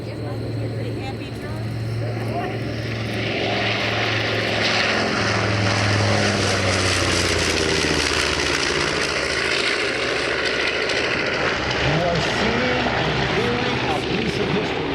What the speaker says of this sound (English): the PB4Y privateer built by Consolidated